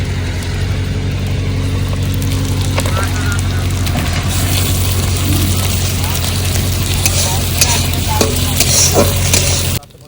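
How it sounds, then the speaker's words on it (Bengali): Garlic paste sizzling in a hot pan while being stirred, steady frying hiss with scraping spoon strokes, close and continuous, over a low background hum before stopping abruptly at the end. "রসুন পেস্টটা যেটা করা ছিল সেটা পেস্টটা দিয়ে দেবো"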